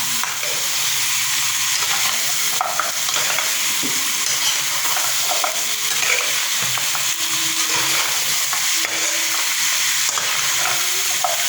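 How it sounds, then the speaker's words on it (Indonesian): One kilo of beef stirred in a pot for sop konro, a loud close sizzle of meat in hot fat with steady scraping and clattering of a spoon against the pot throughout, no voices. "Kita baru bisa masukin yang namanya si daging. Ini 1 kilo ya guys, 1 kilo. Aduk rata."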